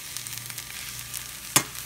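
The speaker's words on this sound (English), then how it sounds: "So we've got some yellow rice and some hot dogs in our pan that we're frying up." Ballpark hot dogs with cheese in the middle and yellow rice fry in a skillet with a steady, close sizzle and crackle, broken by one brief sharp clack near the end.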